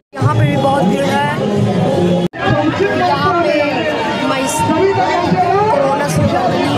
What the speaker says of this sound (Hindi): यहाँ पे भी बहुत भीड़ है।